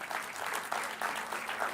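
Audience applause for Ashok Sharma at a spiritual discourse, a steady patter of clapping from a crowd with no talk over it.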